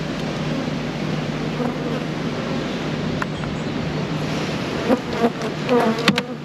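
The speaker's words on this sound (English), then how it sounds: "These buckfast bees we're using now." Buckfast honey bees buzz in a dense, steady drone close by while frames are handled for shipping in a nucleus hive, with a few brief higher-pitched whines rising near the end.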